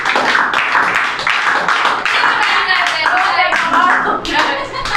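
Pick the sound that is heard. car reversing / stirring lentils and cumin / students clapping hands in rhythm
students clapping hands in rhythm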